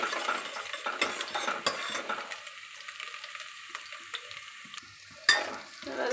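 Onion sautéing in a pan until golden, with spatula stirs and clinks of a utensil against the pan over a sizzle. The sizzle is stronger in the first couple of seconds, then quieter, and a sharp scrape comes near the end.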